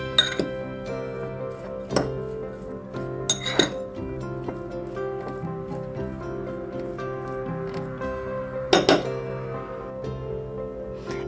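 A spoon clinks against a bowl as pepper and salt are mixed into a capsicum bread omelet batter, giving repeated bright taps and scrapes at an irregular pace over a faint steady hum, close up with no talking.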